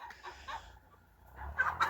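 Farm goose giving a few soft calls close by, quiet honks rising briefly near the end, with rustling in the background.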